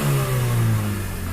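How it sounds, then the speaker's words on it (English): A turbocharged Honda Civic EK with a D16Y7 engine and bigger injectors revs loudly and steadily, a strong close engine drone that rises and then eases slightly, with no voices. "It revs a lot stronger though."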